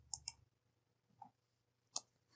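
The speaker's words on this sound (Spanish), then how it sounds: "vamos a dar clic en continuar" A computer mouse clicks several times, faint and close: two quick clicks, a pause, a single click, then one sharper click, in an otherwise quiet room.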